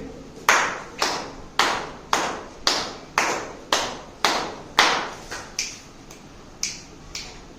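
A steady series of about a dozen sharp finger snaps, evenly spaced roughly every half second, crisp and close with no talking.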